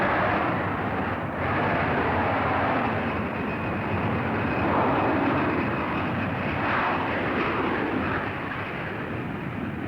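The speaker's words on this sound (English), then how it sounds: "The Canadian Starfighters aerobatic team opened their performance with a formation takeoff." Lockheed F-104 Starfighter jets making a formation takeoff at an air show, a broad, continuous jet roar heard from a distance, steady and fairly loud throughout with no voices.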